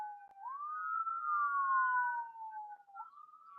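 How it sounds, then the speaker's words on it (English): An ambulance siren wails outside, its long rising and falling tone sweeping steadily through a few cycles at moderate distance with no voices over it. "Sounds like the ambulance."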